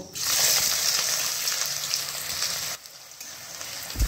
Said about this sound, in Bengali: এবারে আমি কুচনো পেঁয়াজটা দিয়ে দেব।